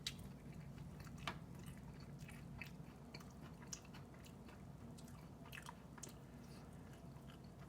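Soft, close crunching and chewing on a Carolina Reaper Blazin chicken wing drumstick dipped in blue cheese, continuous wet mastication with small crisp bites, faint and with no talk.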